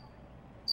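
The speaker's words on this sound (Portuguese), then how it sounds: "só o grilo" A cricket chirps at night in the Cachoeirinha district in Manaus's South Zone. It comes as a brief, bright, loud chirp near the end, after a stretch of quiet low background hum.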